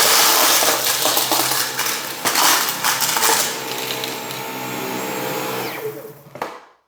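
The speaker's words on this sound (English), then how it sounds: "now what I'm going to do is to raise the gate here, and now see if I can suck up the beans on equal mode." A Dyson V15 Detect cordless vacuum runs loud and steady as it sucks up scattered dry beans, their hard pieces rattling and clattering through the nozzle before the motor winds down and stops near the end.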